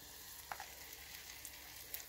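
Quiet, steady sizzle of pizza-khachapuri filling frying in a pan, with a few faint pops and crackles.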